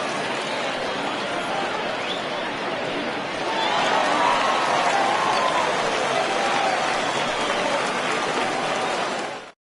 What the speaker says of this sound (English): he receives a nice ovation from this home crowd